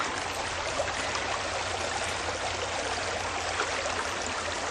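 Shallow prospecting stream runs steadily over sluice riffles, a continuous close-up rush and trickle of water with no pauses, alone and with no voices.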